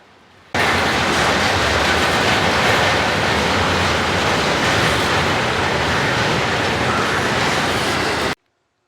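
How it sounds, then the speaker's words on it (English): Norfolk Southern freight train NS-26X, led by a C6M locomotive with a second unit due for rebuilding behind it, rumbles past close by in one loud, steady wash of wheel and rail noise that lasts almost the whole clip. "Sneaking right up behind 28X was NS-26X, with an NS-C6M leading an NS-9"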